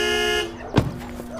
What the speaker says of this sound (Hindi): एकदम तेज से हॉर्न बजाना